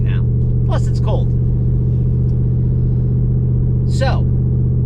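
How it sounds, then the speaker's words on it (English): Steady low rumble of the 392 Hemi V8 in a truck, the only factory Hemi convertible, cruising around town in cold weather, constant and close beneath a voice talking throughout. "Well, for starters, the engine. I'm driving around town."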